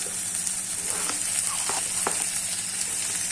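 Tomatoes hit a hot frying pan with a loud, steady, close sizzle, broken by a few sharp spatters and stirring taps, with no talking.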